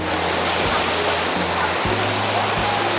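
Dhuppani waterfall in Rangamati roars as a steady, dense wash of falling water, loud and close, with a few faint low thumps breaking through the constant rush.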